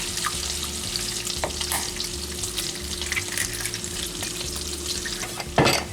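Bacon frying in a pan in a farmhouse kitchen, a steady close spattering sizzle with scattered pops and a brief sharper clatter near the end.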